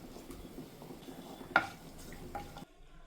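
Whole spices including cinnamon, cloves, a small star anise and a bay leaf fry in hot oil in a pan, giving a soft steady sizzle with a few stirring scrapes and one sharp utensil clink before cutting off.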